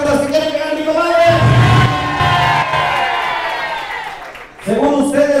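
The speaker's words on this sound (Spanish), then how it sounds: "El aplauso a mi comadre." A live audience at a Mexican comedy show cheers and whoops, a loud crowd roar that swells and then fades before a voice speaks again at the end.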